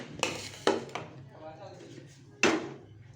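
Cooked zarda, a sweet yellow rice, is dished out onto a plate in a home kitchen, giving a few sharp clinks and scrapes of a serving spoon against the dish, close and fairly loud, with short gaps between them.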